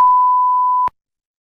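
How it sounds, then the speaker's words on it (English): A single electronic alarm tone sounds as one steady, pure beep, loud and close, holding for just under a second before cutting off sharply into silence. "Is that an alarm?"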